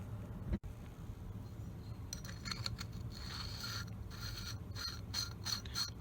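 Sandpaper rubbed against a plastic AR-style collapsible rifle stock, a faint, dry scratchy rasping in irregular strokes after a single sharp tap, quiet and alone.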